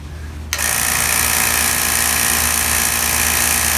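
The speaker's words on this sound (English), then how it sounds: "turn on the vacuum, see if we can get up to 30, and see if we can isolate where our leak is" A vacuum pump starts abruptly and runs as a loud, steady mechanical drone with a pulsing low hum during a leak test on a simple pulse tank.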